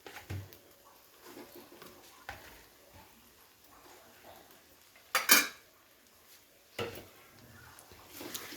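A spatula stirs fried eggs into cooked masala in a pan. Mostly quiet scraping with a few soft clinks, then a sharp metal clatter midway and another brief knock near the end.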